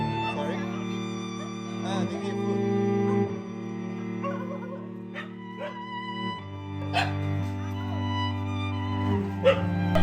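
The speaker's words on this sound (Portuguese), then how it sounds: "tem uma seção inteira do centro só para cachorros" Dogs bark and yip at a shelter in Myanmar, scattered barks of varying distance rising over steady music, with some speech mixed in.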